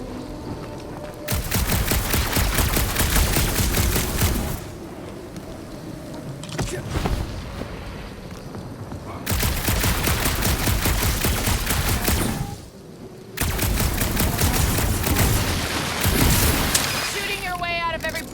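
Rapid gunfire from the video game Marvel's Guardians of the Galaxy, loud sustained bursts of automatic shooting broken by short pauses, with mechanical clanks and a voice speaking at times.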